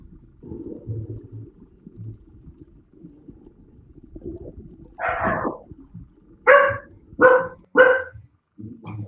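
Dogs bark a few loud, close woofs in quick succession after a single earlier bark, set against a quiet low rumble with brief gaps of silence.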